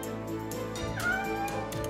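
A cat meows in a short, clear, fairly close call, with a rising tonal cry in the middle over a faint steady background and no talking.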